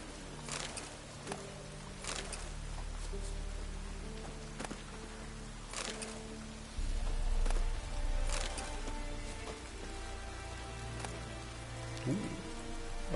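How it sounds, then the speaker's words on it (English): Steady rain pours down in The Witcher 3: Wild Hunt, a dense hiss of drops on surfaces with scattered louder spatters and a low rumble, continuous throughout with no talk. "Proper downpour this is."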